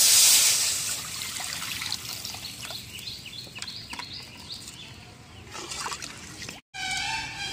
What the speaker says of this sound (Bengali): এবার ডুমুর সেদ্ধ করার জন্য কড়াইতে জল দিয়ে দেবো